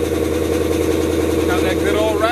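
A car engine idles with a steady, loud rumble and a rough, rattly exhaust note from a faulty exhaust, with a voice briefly speaking over it near the end.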